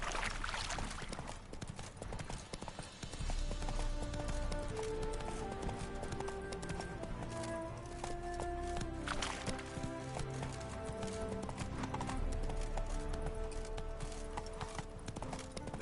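Hooves clip-clop rhythmically as a horse gallops in the video game The Witcher 3. The beat is steady and fairly loud, over layered game music and ambience.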